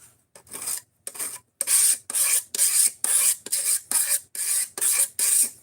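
A file rasps across a knife's edge to dull it, about a dozen harsh scraping strokes in a steady back-and-forth rhythm, close and loud with short gaps between them.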